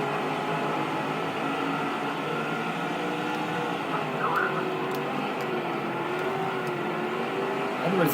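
Racing trucks in the NASCAR 05 Craftsman Truck Series at a simulated track drone steadily in a continuous engine hum, with pitch shifts as vehicles pass and a few faint high clicks over the top.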